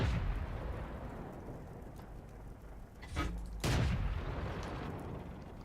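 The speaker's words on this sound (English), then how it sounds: "I think the artillery fired at me, and that's not good." Artillery fire in World of Tanks lands as two heavy booming blasts over a low rumbling battlefield hum, the second louder and lingering, with no one talking.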